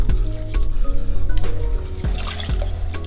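Water trickles and splashes into semolina in a bowl while it is being mixed into a paste for ogbono, a close, continuous liquid pour with small drips and wet squishes.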